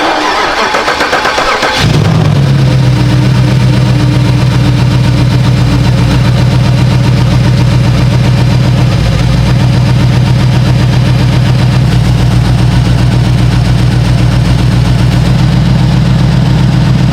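A V8 engine swapped into a BMW E36, running on cold 10-weight oil, cranks and catches after about two seconds, then settles into a loud, steady, rumbling idle heard up close with no talk.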